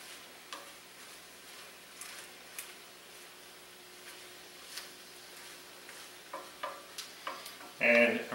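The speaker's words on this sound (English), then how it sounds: "As soon as you start stirring it, it's amazing how it's just going to start to wilt into nothing." Spinach wilts in a hot pan with a soft, faint sizzle while a spoon stirs it in light irregular clicks and scrapes, growing busier toward the end and finishing in a louder clatter.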